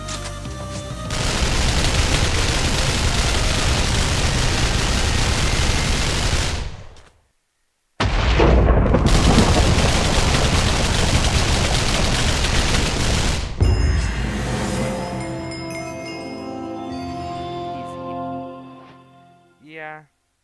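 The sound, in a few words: gunfire in Minecraft Changed Grand Revival mod, video game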